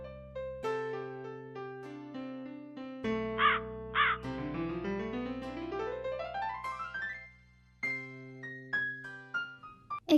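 A crow caws twice in an Islamic cartoon, two short harsh bursts in the middle of a busy stretch of bright cartoon music with no talking.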